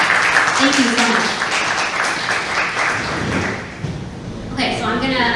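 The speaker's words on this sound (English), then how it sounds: "So let's give a round of applause." Audience applause at a panel discussion on school bus pollution: a dense, loud wash of clapping that continues steadily while people talk over it.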